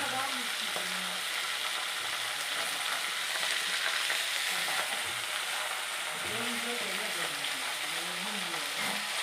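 Chicken pieces frying in a hot pan, a loud continuous sizzle that holds steady throughout with occasional stirring sounds underneath.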